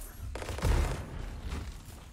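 Heavy weapon fire in Anthem, a couple of deep, booming blasts with a low rumbling tail, loud and close over the game's background noise.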